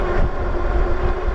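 A Wildeway SummitX AWD e-bike motor accelerates on throttle, giving a steady, close whirring drone with a constant tonal hum over low rumble and no pauses.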